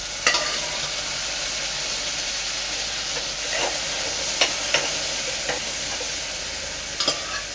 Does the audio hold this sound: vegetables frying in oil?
yes